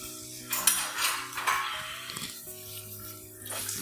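Peppercorns and spices are sautéed in a cooking pan for a green pea kurma, with a soft sizzle beneath sharp, irregular clinks and scrapes of a metal spoon against the pan, over a faint steady hum.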